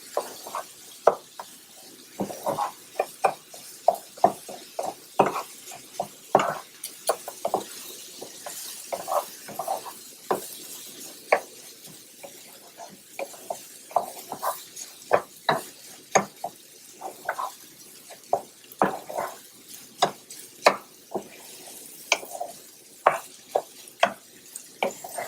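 Washed rice stirred with vegetables in a pot as it toasts, a steady run of scraping, clattering stirs over a faint sizzle, with no talking.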